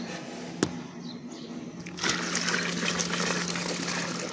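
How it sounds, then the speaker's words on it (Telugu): Water pours steadily into a container holding neem oil, a sharp click near the start, then a fuller rushing flow taking over about halfway through and continuing to the end. "ఇంకా వాటర్ వేసుకుందాము."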